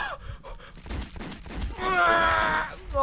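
Gunfire erupts in the video game Metro 2033, a rapid loud burst of shots mixed with grunts and gasps, while a strained voice cries out over the clatter.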